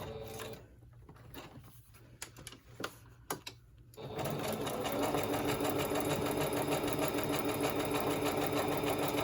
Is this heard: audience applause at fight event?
no